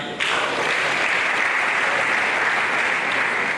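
Audience applause at a university lecture event honoring a former rector, a steady, dense wash of clapping that starts abruptly and holds evenly loud throughout, with no talk over it.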